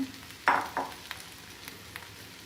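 Large pieces of cut okra drop into a hot pan with a loud splash of sizzle, followed by a second smaller hiss and then a steady quieter frying crackle.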